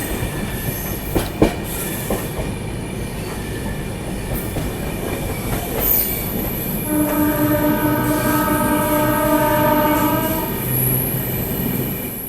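Goa Express passenger train in first AC class rolling along the rails in India, a steady loud rumble from inside with a tonal horn-like whine rising in the second half, no talk.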